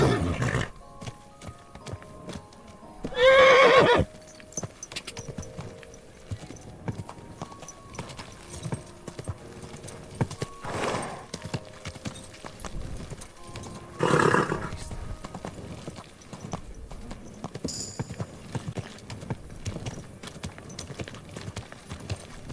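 Horse hooves clip-clop steadily in Kingdom Come Deliverance 2, with several loud neighing bursts cutting in over the continuous hoofbeats and quieter game ambience.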